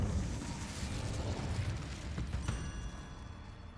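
Incendio fire spell cast in the Hogwarts Legacy video game, giving a dense, continuous crackling roar of flame and bursting pops that holds at a steady level for several seconds, with a sharper burst near the end.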